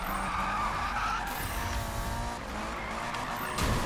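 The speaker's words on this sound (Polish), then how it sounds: "jak ten samochód wchodzi w drift, to jest piękne" A car drifts in Need for Speed 2015 with a continuous loud tire skid and squeal over a roaring engine, steady and close throughout with slight rises and dips in the whine.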